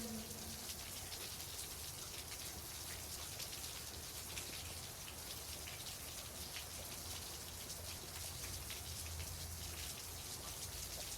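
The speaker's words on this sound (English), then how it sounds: "I don't care if I'm getting drenched in the rain." Steady rain falls and patters on surfaces, a constant dense hiss that continues evenly throughout with no voices over it.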